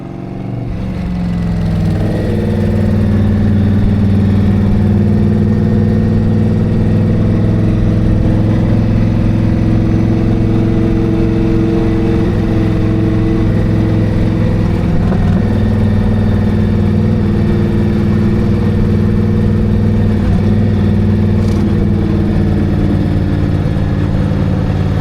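A truck engine idles steadily and loudly at close range, a low, even rumble with a slight rise as it starts up, running on alone with no talk for the whole stretch.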